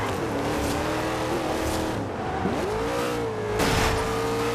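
A race car engine in Forza Horizon 2 roars steadily and loud, its pitch dipping and climbing through gear shifts and acceleration with no talk over it.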